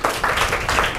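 Audience applause after a quick calculation answer at a talk, with rhythmic bursts of clapping that swell and ebb through one short second, moderately loud and close.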